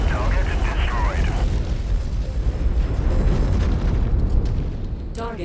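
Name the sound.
video game explosion destroying a target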